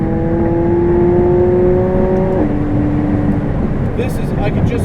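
Inside a 2016 McLaren 675LT sports car at speed, a steady engine drone holds, then drops in pitch at a shift and keeps running under road and wind rush.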